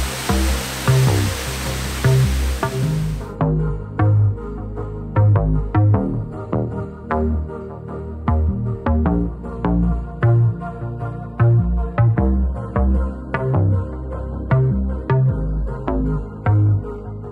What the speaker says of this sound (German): Wir sehen uns nämlich noch einen Wasserfall an.